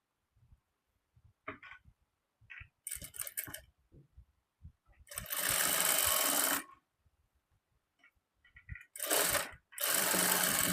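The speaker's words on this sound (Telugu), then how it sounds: "చూడండి ఈ ఎడ్జెస్ రెండు కూడా ఇలా సమానంగా పట్టుకొని స్టిచ్ చేసుకోవాలి." A sewing machine stitches the shoulder seam of a maggam work blouse in two loud sustained runs, with quieter clicks and handling sounds between them.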